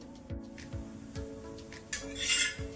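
Bottle gourd paratha roasting on a pan gives a soft, quiet sizzle, with light metallic scrapes and taps from a utensil repeating at a steady pace.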